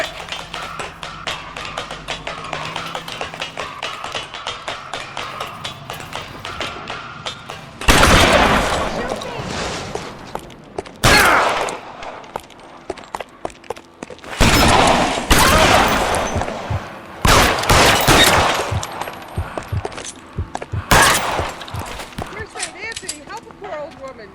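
Gunfire erupts in bursts during a rooftop chase in the video game L.A. Noire, loud cracking volleys separated by short pauses, following a stretch of busy footsteps and game ambience with voices in the background.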